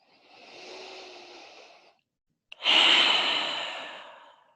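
Deep breathing during a yin yoga session: a long, soft inhale of about two seconds, a brief pause, then a fuller, louder exhale that tapers off over two seconds, close and alone.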